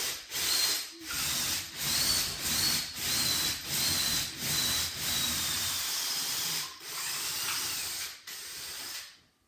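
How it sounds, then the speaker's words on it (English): A drill grinds into masonry in short, regular bursts with brief pauses between, a steady gritty whir repeating close by. "So put the indent of the bit, masonry bit, into that bradawl mark."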